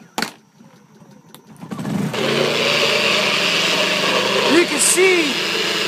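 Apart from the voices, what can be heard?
small generator engine starting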